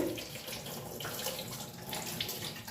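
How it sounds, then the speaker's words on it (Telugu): Water runs steadily from a kitchen tap while a ridge gourd is rinsed under it, a soft, continuous splashing hiss heard faintly and alone. "ట్యాప్ కింద కడిగేస్తే మొత్తం క్లీన్గా ఇలా వచ్చేస్తుంది"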